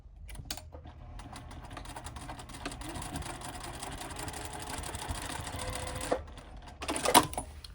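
A sewing machine stitches darts on a crescent bag, running steadily for several seconds close up with a rapid mechanical whir, then stops. A short back-stitch burst follows near the end.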